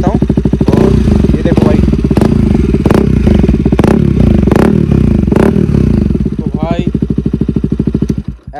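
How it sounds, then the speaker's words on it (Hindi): KTM Duke 200 motorcycle fitted with an Akrapovic exhaust, revving loudly up close, with repeated throttle blips over a rumbling, crackling exhaust note that eases off near the end. "ये चेक करो भाई साउंड सुनो एग्जॉस्ट की"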